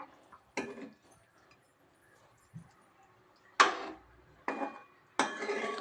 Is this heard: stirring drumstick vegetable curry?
yes